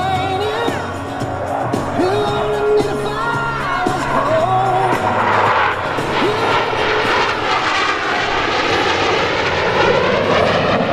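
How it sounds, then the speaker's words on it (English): A Boeing F/A-18 jet flies slow and dirty in carrier landing configuration at a U.S. Navy Blue Angels airshow, its engines a loud sustained roar with rising and falling whines, faint crowd and announcer voices underneath. "In order to demonstrate the dirty slow-speed handling characteristics of the Boeing FA-18, Commander Bernanke is called for the extens"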